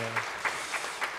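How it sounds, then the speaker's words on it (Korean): A church congregation at a Sunday service applauds an award, a faint, soft patter of clapping with a few rhythmic swells and no talking. "다시 한번 박수 쳐주시길 바랍니다"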